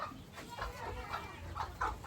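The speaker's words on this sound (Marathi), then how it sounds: "कोंबड्याची पिल्लं आहेत इथं." Chicks and chickens cluck softly on a village farm, with short repeated calls rising over a quiet, steady outdoor background.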